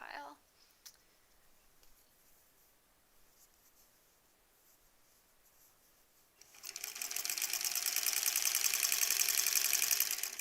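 A sewing machine stitches a quilt block, starting after a quiet stretch with a few small clicks and then running as a steady, close, even whir until the end.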